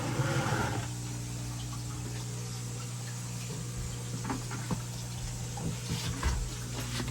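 Water from a hose or tap pours steadily into several aquarium tanks, a continuous splashing rush with a few small clicks and knocks near the end.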